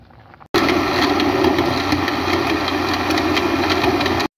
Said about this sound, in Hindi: ये मैंने ग्राइंड कर लिया